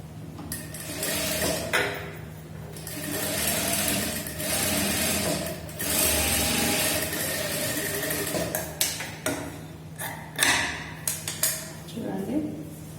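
A sewing machine runs steadily and close while stitching a kaja strip onto a blouse front, with a faint metallic clatter and light handling noises toward the end.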